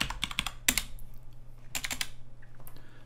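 Fingers tap out quick bursts of keystrokes on a computer keyboard while entering commands, with clustered clicks, a pause, then another rapid burst, heard close over a low steady electrical hum.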